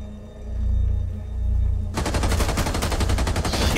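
Rapid gunfire from Rainbow Six Siege, a Bank map team deathmatch, as a player shoots out a mirror; a steady burst of loud close shots begins partway in after a low rumbling lead-in.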